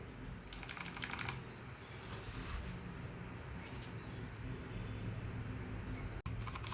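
Fast, clattering typing on a Machenike K7 Bluetooth mechanical keyboard comes in bursts of close, crisp key clicks, with short pauses between runs and a quiet background hum.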